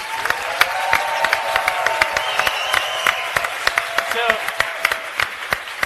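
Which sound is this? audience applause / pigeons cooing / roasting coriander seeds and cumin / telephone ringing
audience applause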